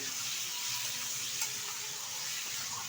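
Potatoes and boiled mushrooms fry in hot oil and are stirred, producing a steady, bright sizzle with faint scraping, close by and with no talk.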